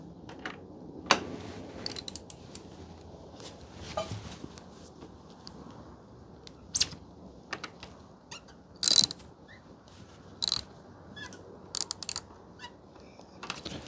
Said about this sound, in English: Now we can undo the fork cap. This is a 24mm socket.